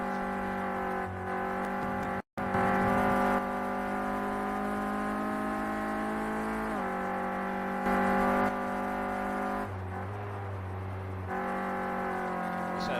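Renault Clio Cup race car at Oulton Park, heard from onboard as the engine drone holds steady and then drops in pitch through downshifts approaching a fast left-hander, loud and continuous with a brief cut near the start.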